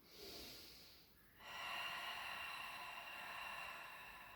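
Breath during a Pilates exercise: a short inhale, a pause, then a longer, steady, airy exhale, close and soft.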